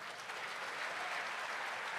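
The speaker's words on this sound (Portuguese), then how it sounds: "Dê um aplauso ao Senhor, igreja." Church congregation applauding, a steady wash of many hands clapping together, even and unbroken, heard at a moderate distance with no voices standing out.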